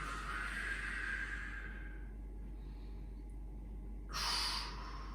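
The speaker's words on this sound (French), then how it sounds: "là on utilise la technique respiration thoracique" Thoracic breathing during a basic bodyweight circuit exercise, with the upper body held rigid and braced: a long, close, breathy exhale for about two seconds, a quiet pause, then one short, sharper breath near the end.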